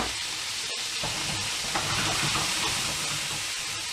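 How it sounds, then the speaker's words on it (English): Smoked bacon lardons frying in a bit of fat in a pan, a steady broadband hiss and crackle of sizzling that runs unbroken and fairly loud throughout, with no talking. "I'm going to get these lovely smoked bacon lardons going in a bit of fat"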